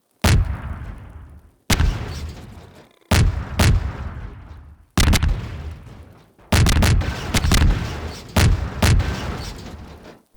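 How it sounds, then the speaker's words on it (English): Cluster bombs burst on zombies in a video game, six heavy booming salvos in about ten seconds, each a sharp loud crack that rolls off into rumble, with the later ones coming in rapid overlapping bursts. "these cluster bombs make short work of them"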